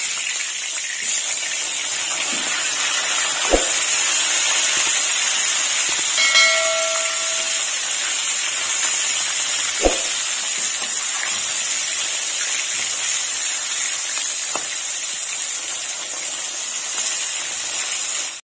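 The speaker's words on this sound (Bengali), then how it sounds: "এইভাবে সব কাঁটাগুলো ভেজে দেবো" Bhetki fish bones frying in oil make a steady, loud hiss broken by a few sharp spattering pops.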